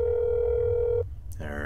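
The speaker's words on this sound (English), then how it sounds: "Just gonna make a quick phone call." A steady telephone dial tone from the video game That's Not My Neighbor holds for about a second, then cuts off abruptly into a brief pause and a short click before other sounds follow.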